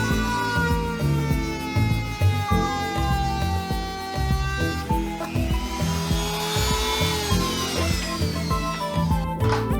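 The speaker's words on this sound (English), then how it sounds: "we're going to cut that with a Dremel tool next" A Dremel rotary tool cuts into car trim on an MR2 Spyder, giving a continuous high whine with shifting pitch and gritty grinding as the bit bites into the material, close and steady throughout.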